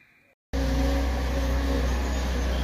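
Lawn mower engine droning loudly nearby, a steady continuous roar that cuts in abruptly after a brief quiet moment and holds without talk.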